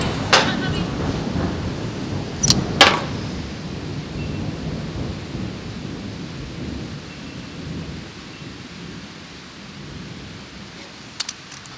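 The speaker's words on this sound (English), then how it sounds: "Thunder and lightning, very, very frightening." Thunder rolls low and heavy through a rainy thunderstorm, with steady rain hiss throughout and a few sharp cracks standing out near the start.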